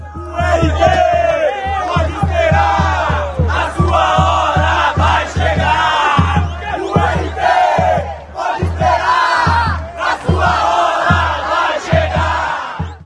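Football supporters of a Minas Gerais club chanting in unison in the stadium stands, loud rhythmic massed voices with steady beats pulsing underneath, repeated phrases rolling on continuously.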